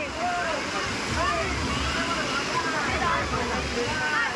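A big tipping bucket at a waterpark dumps water down in a continuous loud rushing splash, with voices talking and shouting over the torrent.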